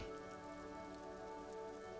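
Sheets of video game rain pour over water in a cold city, a dense, continuous hiss of drops that stays loud and even for the whole short stretch.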